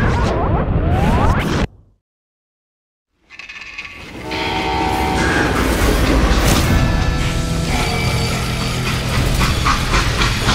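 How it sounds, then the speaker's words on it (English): Train rumbling along rails in the Call of Juarez: Gunslinger video game, with a loud steady mechanical roar and clatter. The sound cuts to silence briefly, then returns at full strength with a tonal horn-like whine. "How'd they stop this train in the first place?"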